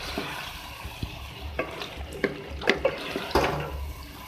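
Yogurt stirred into frying beef keema with potatoes and peas, a moderate, wet sizzle broken by irregular clacks and scrapes of a spoon against the pan.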